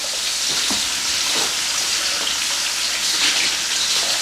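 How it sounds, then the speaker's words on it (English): Marinated beef frying for pad see ew, a steady dense sizzle filling the pan throughout, close and fairly loud, with faint scraping stirs and no talk. "And now I'm going to pour in my marinated beef. And we're going to cook this until it's caramelized."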